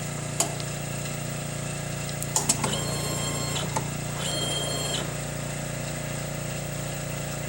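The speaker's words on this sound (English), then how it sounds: "press the foot pedal and it should come over, pick up the die" Royce DE35-8-NSC pick and place machine picking up a die and depositing it, giving a few short clicks followed by two soft mechanical whirring movements over a steady electrical hum, close by with no talking.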